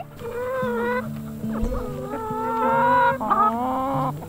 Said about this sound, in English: You're not being a very nice chicken.